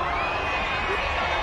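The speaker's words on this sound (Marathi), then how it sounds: "चला तर मग जोरदार टाळ्या शिट्ट्या होऊन जाऊ देत." A large festival crowd at the Agri Mahotsav in Badlapur roars and cheers in a dense, continuous wash of shouting and whooping, loud and sustained throughout.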